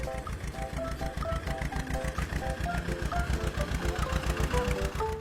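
A cartoon tractor engine chugs in a steady, even rhythm of low pulses, with a light melodic music track playing over it throughout.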